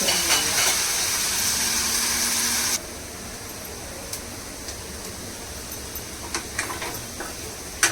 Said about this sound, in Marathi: झाले आपले बटाटे फ्राय बघा लालसर झाले